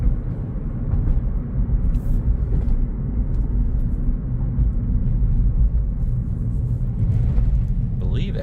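A Toyota Corolla SE with a CVT transmission accelerates, its engine a steady low droning rumble that holds at a constant level throughout, heard from inside the car with road noise and no talking.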